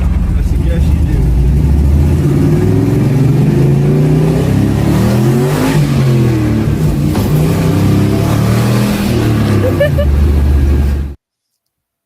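A turbocharged manual Pontiac car accelerates hard, its engine revving up and down through repeated gear changes, loud and close for about eleven seconds before cutting off.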